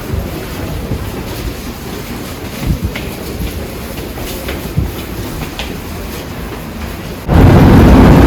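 Kyiv–Kryvyi Rih passenger train at a busy railway platform: a steady rumble of rail noise with a couple of brief thuds, swelling abruptly into a loud, broadband roar near the end.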